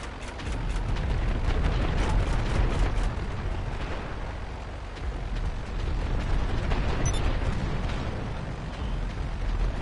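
Cluster bombs dropping in GTA 5 set off a long, continuous run of heavy overlapping explosions, loud and rumbling with crackling bursts, sustained for the whole stretch with no talking.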